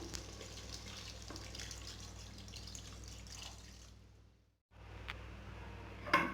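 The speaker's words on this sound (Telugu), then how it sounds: "ఇందులో 1 గ్లాస్ వాటర్ యాడ్ చేసుకుందాం" A glass of water is poured into a pan of chicken curry, a splashing, running-water rush that stops abruptly, resumes more quietly and ends with a few sharp clinks.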